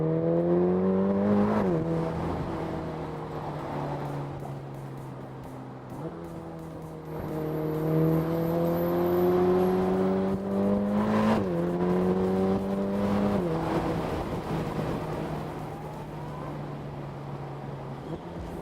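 A Ferrari Portofino engine drones steadily while driving, rising in pitch through several gears with brief dips at each shift, heard from inside the car without talking.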